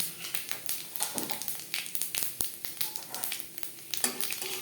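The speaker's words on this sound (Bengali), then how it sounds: "মাছ ভেজে নেওয়া তেলে ফোড়নে দিয়ে দেবো পাঁচ ফোড়ন" Panch phoron spices crackle and sizzle in oil left from frying koi fish, a close, busy spatter of sharp pops over a steady hiss.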